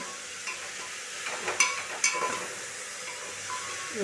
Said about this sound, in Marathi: आता परतून घेते